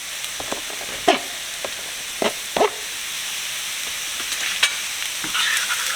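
Garlic frying in a pan over softened vegetables for duck soup, a constant close sizzle with occasional sharp clicks and scrapes of stirring, no voices.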